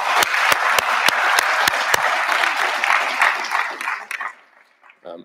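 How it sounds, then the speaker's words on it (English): An audience at a blockchain community conference gives a warm round of applause, a loud dense wash of clapping with a few sharp close claps up front, fading out near the end as a voice briefly speaks. "applause for these folks?"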